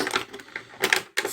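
A package of glitter powder being unwrapped, three short bursts of crisp crinkling and rustling up close, separated by brief pauses.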